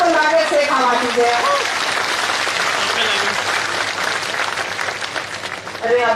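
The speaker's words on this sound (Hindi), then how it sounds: "एक बार जोरदार तालियों से स्वागत करें।" Dense crowd applause at a political rally in India, many hands clapping loudly and steadily throughout, with voices heard over it at the start and end.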